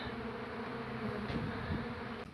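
Honey bees buzz in a continuous droning hum while being scooped during a beehive relocation at a steam rally, close and steady throughout.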